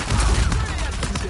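Rapid bursts of gunfire in an Uncharted 4 multiplayer match, a dense volley of sharp cracks and booms packed into a second or so, close and loud.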